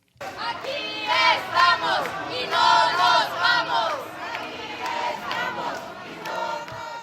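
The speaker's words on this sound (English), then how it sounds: "They're chanting, "We're here and we're not leaving, and if they kick us out, we'll return."" Protesters chant outside an immigration headquarters in Lower Manhattan, a loud crowd shouting rhythmic phrases in unison with rising and falling waves of voices.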